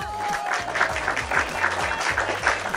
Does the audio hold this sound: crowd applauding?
yes